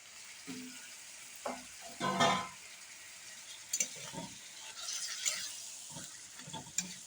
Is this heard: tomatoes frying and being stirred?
yes